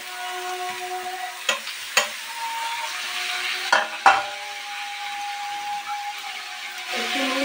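Carrot and capsicum frying with potato and onion in a pan, a soft steady sizzle with a few sharp clanks of a spoon stirring against the pan, close and unaccompanied by talk.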